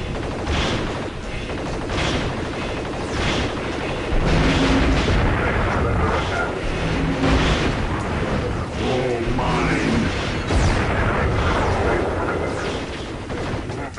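Turret explosions and gunfire from Future Cop L.A.P.D. Precinct Assault on PlayStation, a dense continuous barrage of booms and shots with game music throughout, and recurring bursts of heavier blasts.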